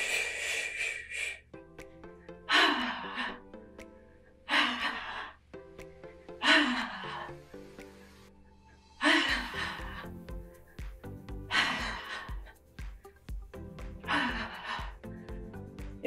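A person exhales forcefully through the mouth during an exercise routine, with about seven breathy sighs spaced roughly two seconds apart over soft background music, close and fairly loud.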